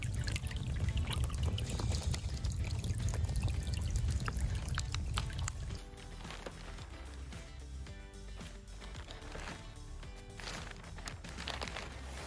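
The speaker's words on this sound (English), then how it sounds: "I turned on the water and began filling the rink." Well water pouring steadily from a hose into a backyard hockey rink liner in the foothills, a continuous loud splashing rush that drops to a thinner, lighter trickle and gurgle partway through.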